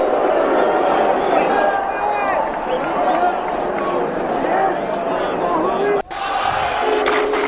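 A hostile crowd in a wrestling video game arena chants in loud, rolling waves during a Chris Jericho versus Eddie Guerrero match, with a voice audible over the chanting.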